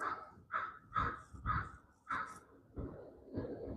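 Crow cawing in a clear series of about six harsh, evenly spaced calls, loud and nearby, followed by rougher low rustling noise.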